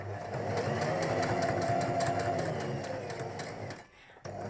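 A sewing machine stitches a fabric book cover in a fast, steady run of rapid needle strokes, close and continuous, then slows and stops near the end, with a few final stitches turned by hand on the balance wheel.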